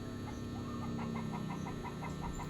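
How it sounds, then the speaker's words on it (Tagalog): Chicken clucking in a repeated cackling run just outside a house, moderately near, set against steady low background hum with no talking. "Paminawa ang manok anak."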